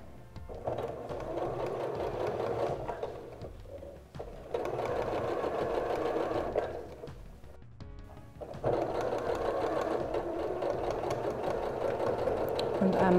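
Sewing machine stitches bias tape around a curved edge in three sustained runs of rapid mechanical whirring, separated by short pauses, close and moderately loud.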